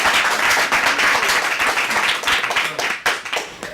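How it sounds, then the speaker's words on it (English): An audience bursts into loud, dense applause, many hands clapping at once in a continuous roar that starts to thin out near the end. "can we have a real big round of applause for Maxine?"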